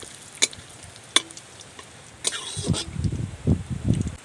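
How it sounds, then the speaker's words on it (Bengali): Cumin seeds and chopped bay leaf hit hot oil with a few clicks, then burst into a close, loud crackling sizzle broken by scraping stirs. "তেল গরম হয়ে গিয়েছে এবার ফোড়নের জন্য দিয়ে দিচ্ছি জিরে আর তেজপাতা কুচি দিয়ে দিচ্ছি"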